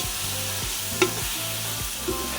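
Biryani masala with curd is sautéed in a pan, a continuous close sizzle under rhythmic scraping stir strokes and a single sharp clink of the spoon against the pan.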